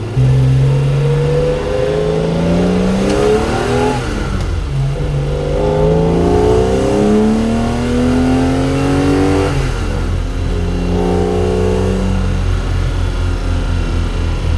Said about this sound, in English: how loud the engine is, like how it just is right here, was scary, but now I'm starting to love it